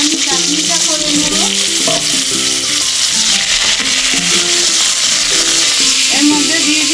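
Mango pieces frying in a pan with panch phoron and dried chilli for a chutney, a steady loud sizzle with scraping stirs throughout, no talking.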